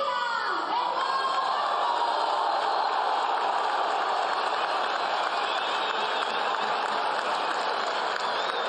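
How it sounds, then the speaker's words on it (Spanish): Applause and cheering from a large stadium crowd at the Alianza Lima 2022 squad presentation night, a dense, continuous roar of clapping and shouts filling the space, with commentators talking over it. "este se merece todos los aplausos"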